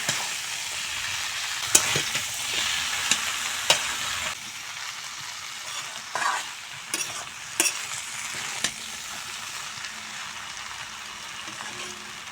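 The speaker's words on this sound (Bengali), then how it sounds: "এখন শিম আলু মশলার সঙ্গে ভালো করে মিশিয়ে নেব" A spoon scrapes and clatters against a frying pan in irregular strokes while beans and potatoes with spices sizzle steadily underneath, close and continuous.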